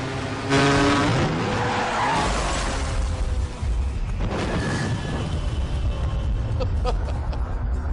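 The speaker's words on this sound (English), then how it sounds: "Coming to a screeching halt." A car's tires skid and squeal as it brakes hard to a screeching stop, a loud, sustained rubbery screech with engine noise and road rumble, with no talking over it.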